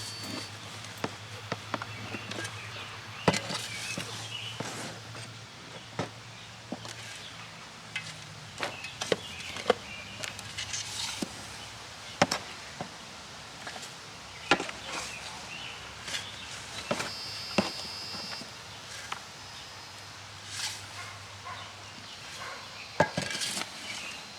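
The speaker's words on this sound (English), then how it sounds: "And I'm just going to mix it all together." Compost being mixed into garden soil with a tool: a long run of scattered scraping and dull thudding strikes, irregular and close, with a low hum underneath.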